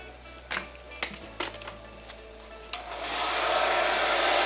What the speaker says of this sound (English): You literally just go through and just blow dry the hair.